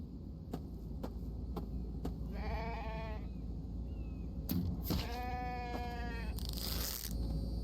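A sheep bleats twice in The Infected, each bleat a wavering call heard at moderate distance over a steady low game ambience with occasional clicks and taps.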